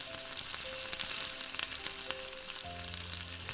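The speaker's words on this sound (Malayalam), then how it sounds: "നമുക്കിത് കുഴച്ചെടുത്ത് ഡീപ് ഫ്രൈ ചെയ്തെടുക്കാം" Dough mixed with shallots, curry leaves and crushed dried chilli deep-fries in hot oil, giving a soft, steady sizzle with light crackles. A faint tonal hum runs underneath.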